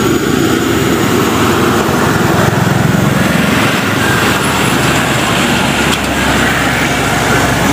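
A dump truck engine running nearby, a loud continuous rumbling drone that holds steady throughout with no voices.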